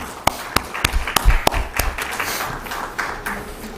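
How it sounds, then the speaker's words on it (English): Scattered applause at a stock exchange listing ceremony for a chemical company, starting as a few distinct loud claps, then blurring into softer, thinner clapping from a small audience in a room. "A big applause to them."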